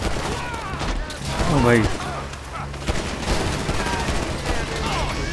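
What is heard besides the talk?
gunfire in a video game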